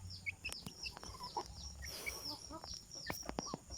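Fighting-breed chickens cluck in short repeated bursts, with sharp calls scattered over a steady farmyard background and one louder noisy rush midway.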